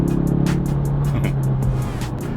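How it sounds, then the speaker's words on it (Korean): A deep synthetic V8-style engine roar played through the speakers of a Kia Stinger Meister 2.5T four-cylinder rumbles steadily with a sustained low drone, dipping slightly in pitch toward the end, with faint ticking above. "마치 8기통 같은 우렁찬 소리를 스피커를 통해서 들려주죠"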